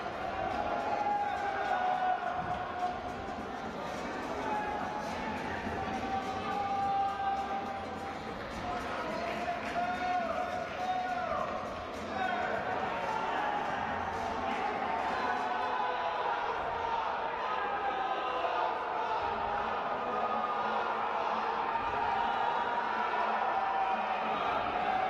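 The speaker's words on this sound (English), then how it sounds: "You can hear the Army team cheering their teammate on, trying to get him psyched up to nail this vault." Army gymnastics team shouting and cheering to psych up a teammate before a vault at a gymnastics meet, crowd noise in a large arena heard under commentators' speech throughout.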